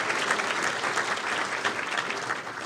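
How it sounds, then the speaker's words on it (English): An audience gives a round of applause for two chairmen at a public discussion in Chicago, dense even clapping that holds steady throughout. "Another round of applause for our two chairmen."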